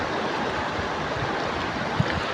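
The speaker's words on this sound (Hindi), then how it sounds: "तेज़ आवाज़ें निकाल रहा है पानी" Fast floodwater rushes past in a steady, loud broadband roar, with one brief splash or knock near the end and no voices.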